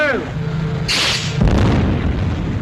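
A torpedoed transport ship blowing up in a WWII naval war film, a loud deep boom with a bright burst of noise that rolls into a long low rumble beneath the film's background sound.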